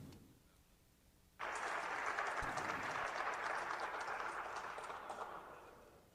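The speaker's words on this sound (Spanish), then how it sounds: "Le aplaudieron todos a Alberto Anaya." After a quiet start, a sudden broad wave of applause breaks out in the Mexican Congress chamber during a late-night session, sounding distant and muffled, holding steady for a few seconds before tapering off.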